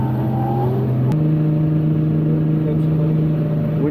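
A car engine holding a steady high drone at drift-practice throttle, loud and close inside the car, with the pitch jumping up once early on and then staying level.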